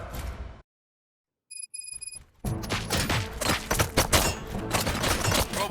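Gunfire from a Robocop episode: a dense, loud burst of rapid shots and impacts that runs continuously for several seconds after a brief silence and a short electronic tone.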